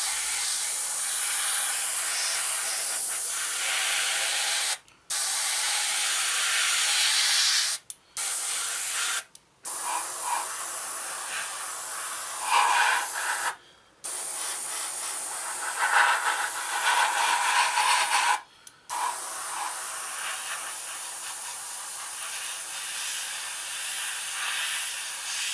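Airbrush laying a brown coat of paint onto a Revell 1/72 Halifax Mk.III model kit, a loud, close, continuous hiss broken by several short pauses where the spray stops and restarts.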